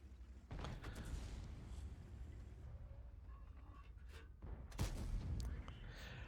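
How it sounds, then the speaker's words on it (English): A tank gun in World of Tanks fires with a sharp boom, a shell striking and ricocheting off a Type 5 Heavy's roof armor, followed later by a second heavy blast and rumbling mechanical clatter. "I hit his roof, which should be weak armor, but I ricocheted."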